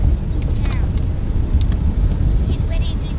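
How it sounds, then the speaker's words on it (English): Strong gusts buffet an outdoor setting at an offgrid farm stay near Yeppoon, a steady loud rumble of wind noise across the microphone with no break. "This is how windy it is out here."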